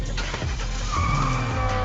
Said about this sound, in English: Drifting 172 miles per hour isn't for the faint-hearted